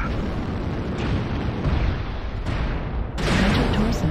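LRM missile explosions in a mech video game come as a steady rumbling barrage with several sharper bursts, dense and loud throughout, ending on a heavier blast.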